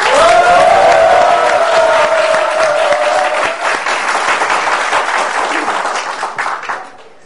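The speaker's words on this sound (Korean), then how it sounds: "자, 박수로 시작을 하겠습니다." An audience breaks into loud, dense applause as a live Korean broadcast begins, with a steady wash of clapping and a few cheering voices fading out toward the end.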